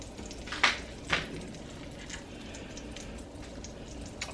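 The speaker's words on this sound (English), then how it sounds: "And we're just going to sear this on all the sides until it's nice and brown." Pork loin searing in a pan of garlic-infused oil, giving a soft, steady sizzle with two brighter crackling bursts near the start, fairly quiet and with no talking.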